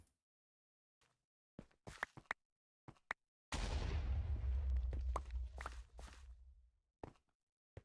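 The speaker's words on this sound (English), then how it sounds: "I don't get how I heard the explosion if there wasn't a creeper right next to me" Scattered faint footsteps and clicks in Minecraft, then a sudden muffled creeper explosion rumbles for about two seconds before fading back to sparse quiet steps.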